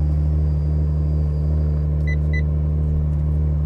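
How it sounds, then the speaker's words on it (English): A car engine growls at idle, giving a deep, steady, loud rumble close by, with a couple of brief high electronic beeps sounding partway through. "The motor's behind me, growling."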